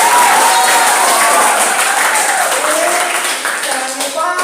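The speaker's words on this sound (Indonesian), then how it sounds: "Tepuk tangan dong." A classroom of students applauding at the end of a lesson in an Indonesian school, loud dense clapping that holds steady, then thins slightly near the end.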